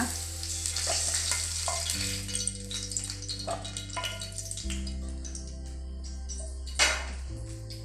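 Green chillies frying in a spoonful of oil in a pan, a steady close sizzle with crackles and occasional stirring clatter, no talk.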